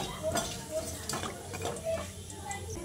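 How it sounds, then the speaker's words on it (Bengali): Whole spices for a tempering frying in oil in a pot for a mutton dum biryani, a soft sizzle under scraping and clinking stirs, with a voice talking over it. "এবার ফোড়নটাকে কিছুক্ষণ ভেজে নিচ্ছি।"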